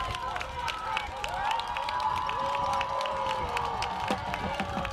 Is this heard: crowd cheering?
yes